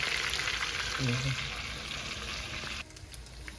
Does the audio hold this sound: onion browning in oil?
yes